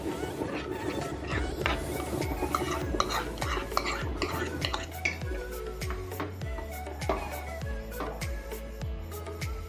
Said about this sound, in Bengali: মাংসটা আমার সিদ্ধ হয়ে এসছে, আমি একটু বিরিয়ানির মশলাটা দিয়ে দিচ্ছি। টক দইটাও দিয়ে দিচ্ছি।